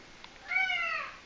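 A single drawn-out cat meow, rising then falling in pitch, close and fairly quiet, lasting about half a second.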